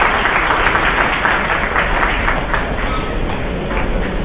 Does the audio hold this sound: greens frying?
no